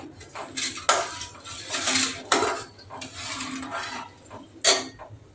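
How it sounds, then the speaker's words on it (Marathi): A spoon stirs rice and salt in a cooking pot for masala rice, producing close metallic scraping and clinking against the pot in uneven strokes, with a few sharper knocks. "व्यवस्थित स्टर करून घेऊया याला, म्हणजे मीठ पूर्णपणे"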